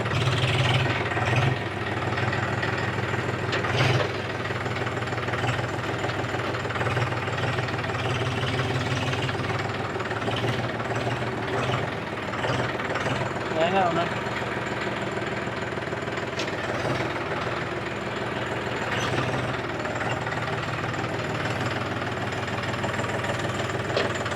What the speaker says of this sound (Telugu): మనం బండి స్టార్ట్ చేసినాం.